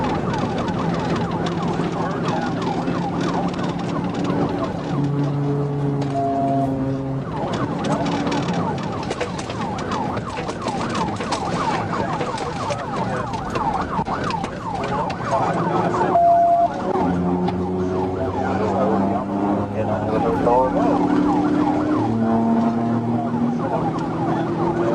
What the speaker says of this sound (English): With sirens lit, the chase was on.